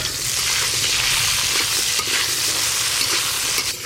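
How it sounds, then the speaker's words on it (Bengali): Taro pieces fry in mustard oil with salt and turmeric, giving a loud, steady sizzle with occasional stirring scrapes and no talk. "কেটে ধুয়ে রাখা কচুগুলো নুন হলুদ দিয়ে একটু ভালো করে ভেজে নেব"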